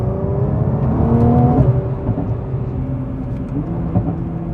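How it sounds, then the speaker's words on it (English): A 2020 Nissan GT-R 50th Anniversary Edition engine drones and revs in steady manual gear changes, with a few quick crackling exhaust pops as it shifts down into third. No voices. "Another couple of pops down into third gear there."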